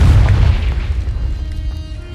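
A single deep, booming blast from the Confringo spell shattering rocks in Hogwarts Legacy, loud and close, with a low rumble that fades over about two seconds.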